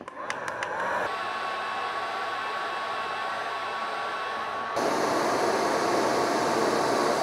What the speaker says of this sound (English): compare it to the heat gun on the high setting